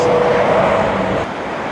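A passing vehicle hums and whooshes nearby on a road through Clear Creek Canyon, fading slightly toward the end.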